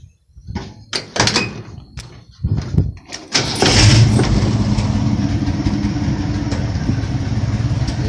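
A 1971 Ford F100 with a 302 small-block V8 cranks with a few clunks and starter bursts, then catches and settles into a steady, close rumbling idle.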